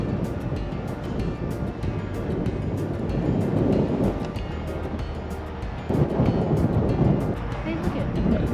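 Strong wind roars and buffets against the microphone in a hole through a mountain ridge on Oahu at sunrise, a continuous broadband rush that surges louder near the end, with no other clear sounds.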